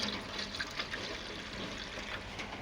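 Water pours steadily into a pan of rohu fish curry soured with amchur, a close, continuous splashing gush that lasts a few seconds with no talk.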